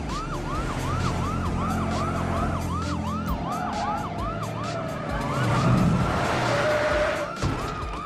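Police sirens wailing in the video game Grand Theft Auto 5 Online, loud repeating up-and-down yelps in a rapid rhythm with engine and traffic noise beneath, the wail shifting to a steadier tone near the end.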